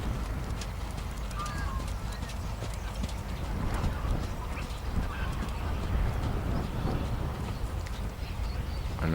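Hooves of a dressage horse in a super extended trot beat in a fast, steady rhythm on an arena surface, moderately close, under constant crowd or ambient noise with faint bird calls.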